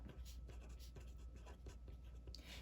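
A pen or pencil scratches across paper in short, close strokes, quiet and steady, for a few seconds with no talk over it.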